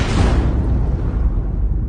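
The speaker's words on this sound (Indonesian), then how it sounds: "Terdengar suara bom yang berasal dari belakang Alfamart." A bomb blast behind a convenience store in the 2021 film Hard Hit, a loud sustained roar and rumble that fades slowly, heard alone without speech.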